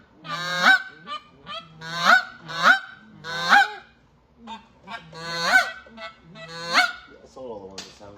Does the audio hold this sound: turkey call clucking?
yes